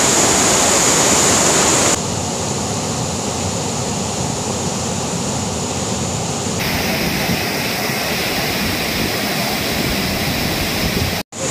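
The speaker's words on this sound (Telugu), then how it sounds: "ఫాల్ సౌండ్ వినిపిస్తుందా? నాకు వినిపిస్తుంది." Athirappilly waterfall in a Kerala rainforest, a loud, steady broadband roar of rushing, crashing water that fills the whole stretch without pause.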